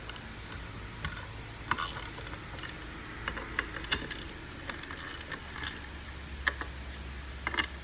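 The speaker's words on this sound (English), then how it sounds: "then I go around just giving a couple of ratchets per" A hand ratchet clicks in short, irregular bursts while tightening bolts on a 2017 Polaris Ranger 1000 XP. The sharp ticks are close and alone, with no voices.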